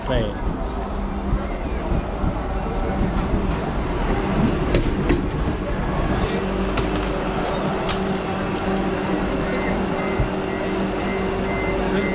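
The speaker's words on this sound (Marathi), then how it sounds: "आमचा वंदे भारत वंदे भारत ट्रेन येते आता" A Vande Bharat train arrives at Kankavali Railway Station, rumbling nearby with a steady mechanical roar and occasional horn-like tones, while people talk over it.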